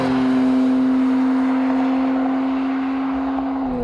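A 2017 Jaguar F-Pace S with a six-cylinder engine and ZF 8-speed gearbox hums under load at a steady, strong pitch, then drops off near the end.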